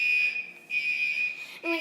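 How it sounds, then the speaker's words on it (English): A home fire alarm or smoke detector sounds a loud, steady high-pitched tone that cuts out briefly twice, with a close, alarmed voice breaking in at the very end. "My fire alarm is literally going off."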